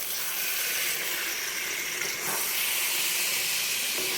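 Marinated chicken, seasoned with salt, turmeric and chili, hits hot frying masala in a pan, giving a loud, steady sizzle and hiss that holds evenly throughout, with no talking.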